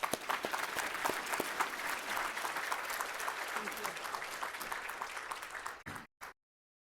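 An audience at a 2024 Celebration of Heroes program breaks into sustained applause to welcome a speaker, the clapping dense and steady before cutting off abruptly near the end.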